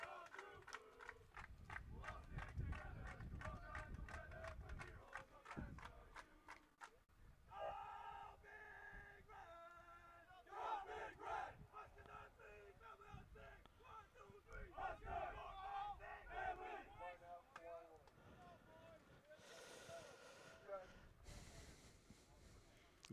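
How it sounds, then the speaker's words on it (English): University of Nebraska rugby players at a men's D1AA sevens national championship shouting a team cheer, a crowd of voices yelling in bursts and chants from a distance, mixed with talk nearby. "University of Nebraska players doing their cheer, just finishing up the day"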